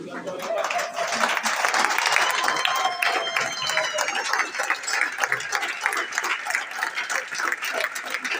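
Audience applause at a Congolese political event announcing a presidential candidacy, dense steady clapping from a large crowd with voices and a few whistles mixed in, sustained throughout before thinning slightly.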